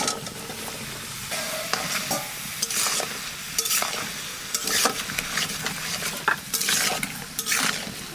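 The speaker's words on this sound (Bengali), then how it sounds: "এবার কুমড়োটা দিয়ে মশলার সাথে কষাবো" Pumpkin pieces sautéed with turmeric and spices in a hot pan for a Bengali pumpkin curry, giving a steady loud sizzle broken by repeated scraping stirs of a spatula, close up and without speech.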